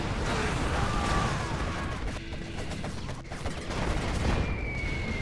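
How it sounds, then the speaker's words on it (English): Fuel air bomb strike in a GLA versus USA real-time strategy battle, a dense rumbling blast and crackle of gunfire sustained over several seconds, loud and close with no clear talk. "Fuel air bomb comes in."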